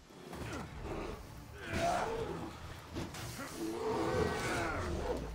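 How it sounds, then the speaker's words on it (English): A bear growls in the Assassin's Creed Odyssey video game, with low rumbling growls and roars rising and falling in several drawn-out bursts at moderate volume. "I feel like I was hearing more growling."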